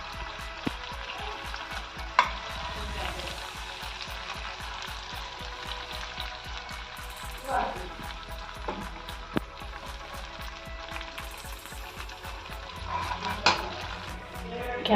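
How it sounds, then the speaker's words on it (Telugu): Tomato gravy fries in a pan, a steady close sizzle with fine crackling and a few louder spits and knocks of a utensil scattered through, under a low constant hum. "ఇప్పుడు మనం ప్రిపేర్ చేసుకున్న గ్రేవీ యాడ్ చేద్దాం."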